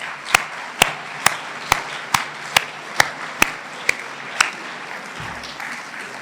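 Sparse, evenly spaced hand claps from the audience at a mayor's New Year address in Saint-Germain-au-Mont-d'Or, about ten sharp claps in a slow rhythm that thin out and stop, with no talking over them.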